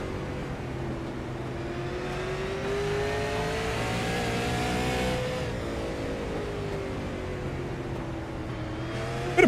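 A Ford Mustang stock race car on the SARA National Tour at Hickory powers out of a corner, its engine droning steadily and rising in pitch as it accelerates, with other cars audible nearby and no talk.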